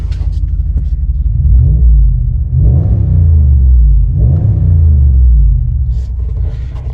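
From inside the cab of a Dodge Ram 1500 with a straight pipe exhaust, a deep engine rumble drones steadily and swells with two revs, loud and close. Nobody speaks.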